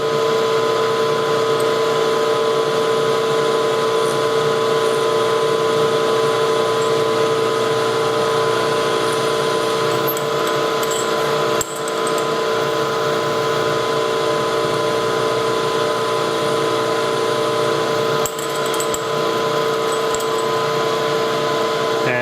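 Steady mechanical drilling of a hole in metal with a constant whine and hum from a running machine, continuous throughout at close range, with a couple of brief shifts in tone.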